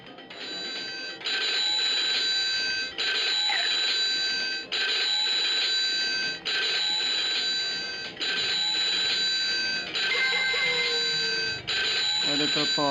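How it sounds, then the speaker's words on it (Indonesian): A telephone rings in the PlayStation game 102 Dalmatians: Puppies to the Rescue, with repeated steady electronic ring bursts separated by short gaps, loud and continuous through the stretch while a voice talks faintly under it. "Ada telepon."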